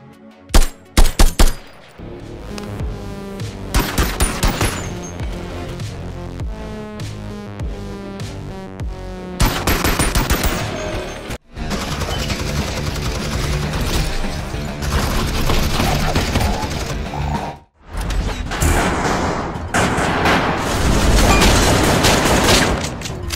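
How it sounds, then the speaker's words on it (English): Gunfire from blind firing over cover in a VR first-person shooter game: a few sharp isolated shots at first, then sustained dense bursts of rapid fire with brief pauses, loud and close, no voices. "You can even blind fire."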